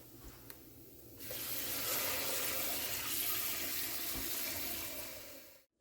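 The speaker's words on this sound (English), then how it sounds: "we're going to go over to the sink here, and we're going to get us some water going" Water runs from a kitchen sink tap, starting with a click and swelling into a steady close rushing stream for several seconds before it is shut off abruptly.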